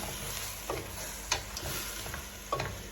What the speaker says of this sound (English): so let us fry up a little bit